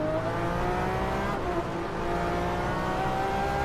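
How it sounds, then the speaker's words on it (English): An LMP race car in rFactor 2 on the laser-scanned Sebring track drives by with a loud, steady engine whine that holds high revs throughout, only a slight dip midway and no voices. "As another LMP car goes down the inside here."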